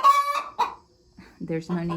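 Hens in a backyard coop cluck and squawk in short, close bursts with pauses between, loud and alone, with crowing-like rising calls among them.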